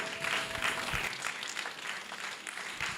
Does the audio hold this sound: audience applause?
yes